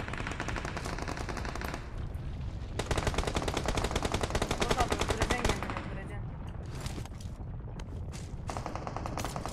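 Automatic gunfire in the mobile battle-royale game PUBG Mobile, loud and continuous with rapid rattling bursts, briefly dropping and resuming, while players talk over it.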